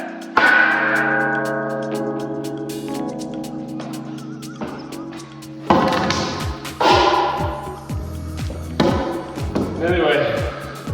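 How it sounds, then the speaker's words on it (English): A bell rings out after a film festival, with sustained tolling tones that ring and decay, followed by sharp, repeated clanging strikes later on. "This is the bell we're gonna hear after the film festival."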